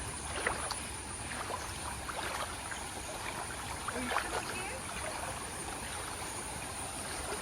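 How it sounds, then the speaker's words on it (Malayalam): Swollen stream overflowing into a garden plot, a steady broadband rush of flowing water that runs continuously throughout, with faint scattered splashes and trickles near the listener. "തോട്ടിലെ വെള്ളം ഓവർഫ്ലോ ആയിട്ട് ഇങ്ങനെ പോകുന്നു ഒഴുകി പറമ്പത്തേക്ക് കയറി"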